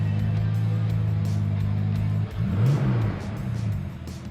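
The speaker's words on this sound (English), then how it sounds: "A six-cylinder engine sounds great," A turbocharged six-cylinder VL Commodore engine idles with a steady low drone, then blips into a couple of quick revs that rise and fall, close by.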